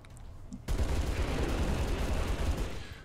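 Rapid video-game gunfire from XCOM 2 with a Halo Reach mod, a sudden loud burst of dense, continuous shots that starts after a quiet moment and keeps rattling close for several seconds.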